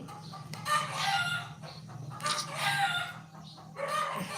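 A rooster crows twice in long, drawn-out calls, fairly close, with a steady low hum underneath and no voices.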